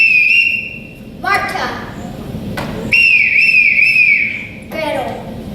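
Sustained, steady whistle signals blown on stage during a high school production of The Sound of Music, calling the children; two long tones separated by a pause, with a spoken name and rustling between them.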